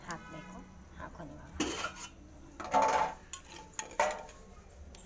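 Washed spinach and red amaranth greens go into a pot on a wood-fired stove for sambar. A few soft clattering knocks come close and fairly quiet, with a voice faintly in the background.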